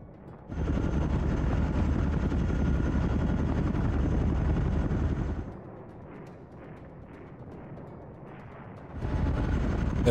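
Helicopters in a Fulda Gap modern wargame play as a loud, dense rotor-and-engine roar that fills about five seconds, drops to a quieter rumble with faint clatter, then swells back near the end.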